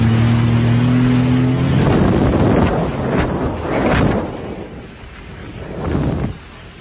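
Steady engine drone of a jet ski on the ocean mixed with rushing wind and water, rising in short surges before cutting off near the end.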